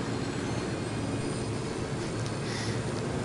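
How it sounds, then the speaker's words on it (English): Steady engine drone of a plane in Ghost Recon Wildlands, a continuous broadband roar with a low hum, held at an even level throughout without pauses. "I guess I'm going to have to land the plane"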